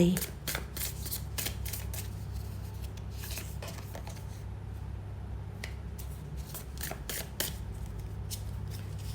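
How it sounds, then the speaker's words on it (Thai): Tarot cards are shuffled and riffled in quick repeated bursts, close and crisp over a low steady hum, with a short pause midway. "เลือกไพ่สักครู่นะคะ"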